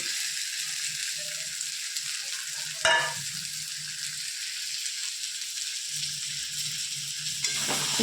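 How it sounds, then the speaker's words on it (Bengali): Fried potatoes and cauliflower go into a spice masala, with a steady, hissing fry throughout. One sharp clatter and burst of sizzle near the start, and another stirring scrape near the end. "ভেজে রাখা আলু আর ফুলকপিগুলো দিয়ে দেবো মশলার মধ্যে"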